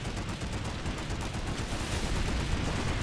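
Dense continuous gunfire and explosions from a large Planetside 2 battle, a thick roar of rapid overlapping shots at steady loudness with no clear talk.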